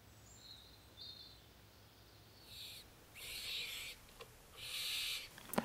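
Owls call from a deep nest box overlooking a farmyard. Several breathy hissing screeches come in bursts, growing louder and longer toward the end over a faint, quiet background with no talking.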